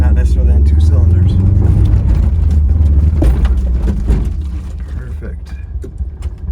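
Toyota Corolla driving off-road on only two cylinders, a loud low rumbling engine drone with rough bumps and knocks that eases off toward the end, while people talk over it.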